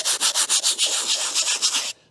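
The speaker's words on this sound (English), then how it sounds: "I just took a piece of 80 grit sandpaper on a sanding block" Close, loud back-and-forth scratching of 80-grit sandpaper on a sanding block smoothing a concrete crack repair, steady rhythmic strokes about four per second before stopping abruptly.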